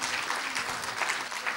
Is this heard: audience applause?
yes